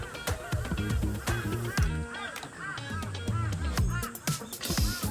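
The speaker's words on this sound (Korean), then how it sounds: "뭐가 이렇게 까마귀들이 우냐" Birds call loudly and repeatedly, overlapping honking cries in a busy outdoor chorus that runs continuously, with no clear talk over them.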